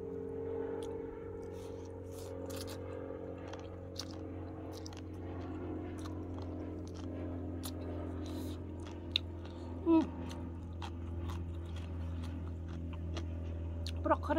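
Someone chews broccoli with a Thai papaya salad outdoors, giving soft, close crunching and wet chewing bites at irregular intervals over a low, steady background hum.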